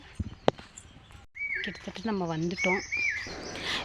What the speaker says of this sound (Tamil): வீடியோவில் பார்த்தீங்கன்னா நீங்கள் கேட்கலாம் குயிலோட சவுண்ட்